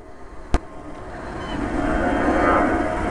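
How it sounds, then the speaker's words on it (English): A sharp click, then the low roar of a jumbo jet leaving Bristol passing overhead, swelling gradually and staying steady as it crosses. "There we go, it's a jumbo jet, look. Leaving Bristol."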